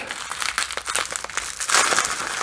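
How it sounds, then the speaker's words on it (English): Crinkly plastic packaging of a mailed diecast model rustles and crackles up close as scissors cut it, a continuous scratchy crackling with a few sharper snips. "So we'll hit it with the scissors."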